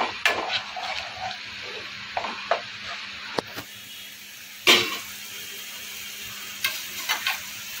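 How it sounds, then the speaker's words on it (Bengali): Paneer bhurji sauce with sugar cooks in a pan, giving a low, steady bubbling hiss. Occasional sharp clicks and knocks of a utensil come through, plus one brief loud scrape midway. "একটু ফুটে উঠুক, ফোটার অপেক্ষা করবো।"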